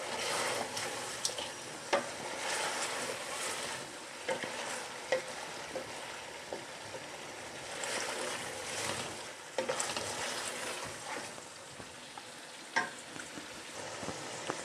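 Chicken frying in ghee with garlic and onion for nihari, a steady broad sizzle with occasional stirring scrapes and pops, close and continuous for the whole stretch, with no voices.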